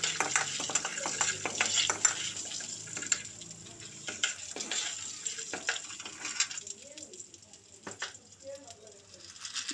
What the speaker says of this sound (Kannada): ನೆಕ್ಸ್ಟ್ ಇದಕ್ಕೆ ಶೇಂಗಾ, ಅದನ್ನು ಹಾಕಿ ಫ್ರೈ ಮಾಡಿ ನೀಟಾಗಿ.